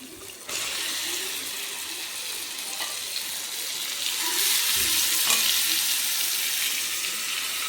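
Chicken pieces frying in a pan with softened tomatoes for Andhra-style chicken curry. A close hissing sizzle swells louder partway through, with faint stirring knocks.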